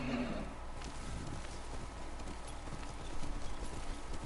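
Horse hooves clip-clop in a steady walking rhythm throughout, moderately close and consistent, with no talking over it.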